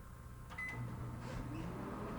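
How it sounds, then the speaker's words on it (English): A microwave oven hums steadily while melting butter for rice crispie treats, a short beep and door or button click at the start, then a continuous low drone up close. "we'll put that in the microwave for like 30 seconds or so."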